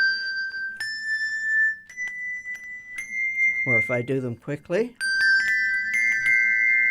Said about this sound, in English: Then we have 4-in-hand technique, where I'm holding 2 bells in each hand,